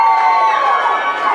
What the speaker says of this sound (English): You can hear the crowd getting up